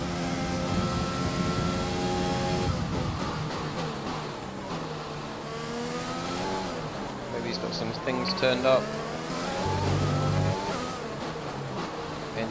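A Formula 1 race car in the video game F1 2020 drones with a steady high engine tone that shifts pitch as it changes gear and revs, under ongoing commentary talk.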